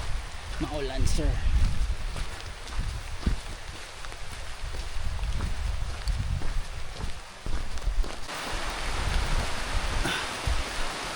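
Heavy rain falls outdoors on a wet trail toward Lipit Falls in Pangasinan, a constant noisy patter mixed with footsteps and rustling, close to the mic and swelling near the end, with people talking over it.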